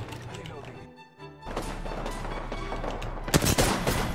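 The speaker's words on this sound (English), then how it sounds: "Is he shooting at us, or is he just there?" Gunfire in the battle-royale game Apex Legends, bursts of rapid shots and impacts crackling through the mix, with a louder cluster near the end, while players talk over it.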